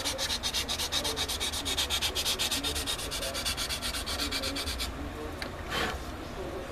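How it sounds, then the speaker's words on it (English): A power sander worked along the front edge of a plastic model kit part, giving a close, rapid rhythmic rasping that runs steadily and then eases into lighter scraping strokes. "I'm just going to take my sander and just run it along the front edge like this."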